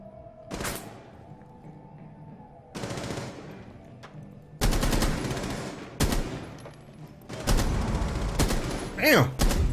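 Loud, close bursts of automatic gunfire in Rainbow Six Siege, several separated volleys across the stretch, with a player's voice talking between and under the shots.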